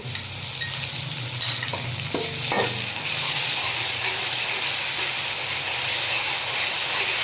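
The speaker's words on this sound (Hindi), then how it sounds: "अब हम इसमें लहसुन अदरक का पेस्ट डालेंगे" Steady, close sizzle of ginger-garlic paste frying in hot oil with onions, with soft stirring scrapes and a brief louder hiss partway through.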